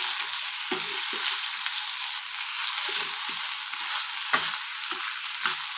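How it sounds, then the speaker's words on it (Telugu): Food being stirred in a frying pan on the stove, with a steady sizzle underneath and several distinct scraping strokes of the spoon against the pan, no voices. "మధ్య మధ్యలో ఇలా కలుపుతూ ఉండాలి లేకపోతే అడుగు పడుతుంది"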